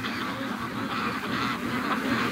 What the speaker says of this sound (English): that's geese on ice